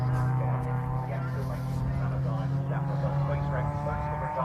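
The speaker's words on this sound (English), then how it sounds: "So the car's just coming around." Ford Fiesta junior race car circling a track in free practice, its steady engine drone rising and shifting as it passes, heard under continuous commentary talk.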